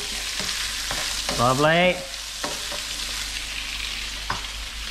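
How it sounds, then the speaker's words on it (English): Mud crab frying in a pan while being stirred, steady sizzling hiss with scraping stir strokes and a brief loud swell midway; a voice says one word. "Stir it up."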